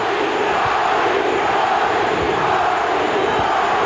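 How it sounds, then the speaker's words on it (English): Boxing arena crowd at the Johnny Tapia vs Danny Romero fight roars and chants in a loud, unbroken mass, with rhythmic low pulses suggesting the repeated "Johnny" chant. "Crowd chanting, Johnny, Johnny, Johnny."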